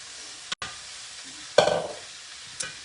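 Pot stickers and vegetables stir-frying in a stainless nonstick wok: steady frying hiss with a sharp scrape and toss at mid-clip, a few quieter clacks around it, no talking.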